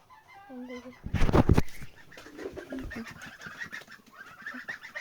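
Geese honking and cackling nearby, a loud flurry of calls early on followed by scattered honks, with faint bird chatter in the background.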